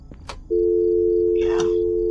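A dead telephone in a horror video game gives a loud, steady busy tone that begins abruptly and holds without a break, after a few faint knocks and over a brief murmur near the end.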